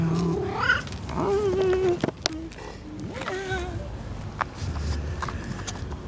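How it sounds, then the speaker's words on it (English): A neighbor's pet cat meows several times in rising, drawn-out cries, close and clear, mixed with a person speaking softly to it. "Neither does my neighbor's cat. It's a kitty."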